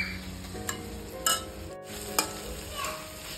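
Tomatoes cook in a pan with chilli powder, a soft sizzle broken by a few sharp scrapes and knocks of a spoon stirring.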